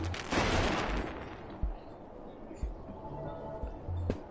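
A gunshot goes off in the VR game Animal Company during a round of Russian roulette: one loud blast near the start, followed by a few softer thuds.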